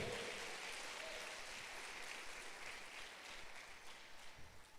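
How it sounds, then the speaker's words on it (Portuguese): Church congregation clapping in praise, a steady dense wash of applause that holds at a constant level throughout before thinning slightly toward the end. "Dê uma salva de palmas ao Senhor."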